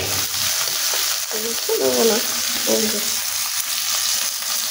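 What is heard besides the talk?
tomatoes frying in a pan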